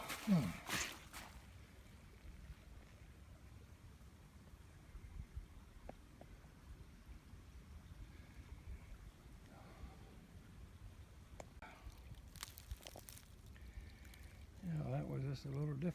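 Creek water flowing steadily outdoors at Smith Hollow in early March, a continuous broad rushing wash with a few scattered knocks and rustles nearby.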